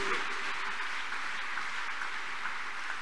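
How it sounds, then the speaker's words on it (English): A church congregation claps together in praise, a steady dense wash of many hands that holds evenly at moderate level for the whole stretch, with no voices rising above it. "Shall we clap and appreciate God of chosen?"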